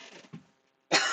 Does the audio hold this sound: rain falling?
no